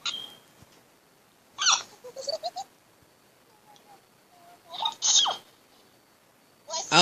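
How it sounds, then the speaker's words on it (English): A young woman gives squeaky hiccups that sound like a puppy, several short high yelps and chirps spaced apart, close and fairly loud in a quiet room. "The puppy hiccups."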